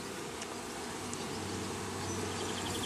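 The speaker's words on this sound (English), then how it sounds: "They're so much bigger than a regular bee, they're louder." Honeybees and larger drone bees buzz while being hived from a box, a constant layered drone with a few brief louder passes, close by and steady, with no voices.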